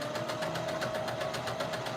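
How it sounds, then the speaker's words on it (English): Home sewing machine running steadily while stitching a doll pattern, a continuous close mechanical whir with a fast rhythmic needle chatter and no pauses. "today I'm just getting out my sewing machine and doing some stitching"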